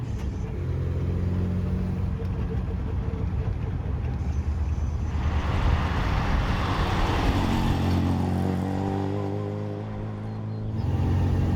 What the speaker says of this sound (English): On these twisty rural roads, it demands changing down gears, and it's just wonderful to do that.